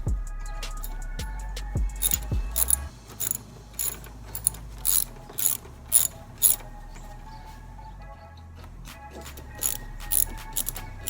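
Hand ratchet with a 10mm socket turning a bolt on the air filter box of a 2008 Acura TL, giving repeated short bursts of clicking spread across the clip, close and fairly quiet, with no talk.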